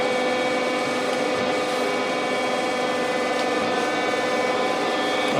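Surface grinding the cross slide of a Monarch 10EE lathe, with coolant flowing: a steady, even broadband hiss and whine of the wheel on metal that runs unbroken throughout.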